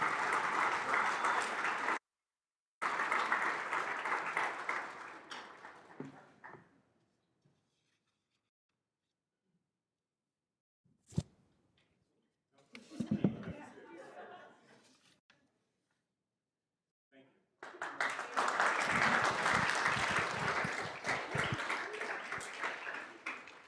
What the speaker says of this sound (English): give a big round of applause for the Arlingtons initiative